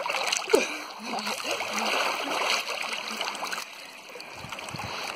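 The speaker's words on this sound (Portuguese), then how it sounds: "Cachoeirinha boa." A small waterfall spills into a cold pool in the countryside, a steady close splashing rush of water with a few sharper splats, under the voices of people talking nearby.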